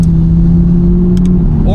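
An Audi R8 engine with its exhaust valves closed holds a steady, loud, low droning note close by.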